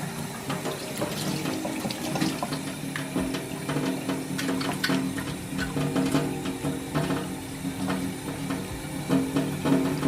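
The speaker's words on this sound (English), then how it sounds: "So Jay wants to try washing his hands with it" Steady running tap water splashing over hands being washed with homemade soap at a sink, a continuous close wash with no talk.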